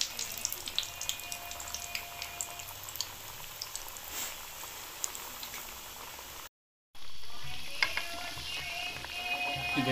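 Sweet dough pieces fry in oil over a medium flame with a steady, dense sizzle and bubbling, a brief silent gap, then the crackle resumes slightly louder.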